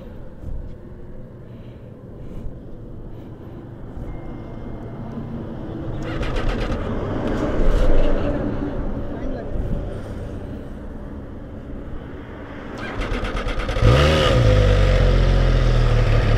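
An MV Agusta F3 800 motorcycle engine idles, then revs up in several bursts, growing louder near the end, with voices talking nearby.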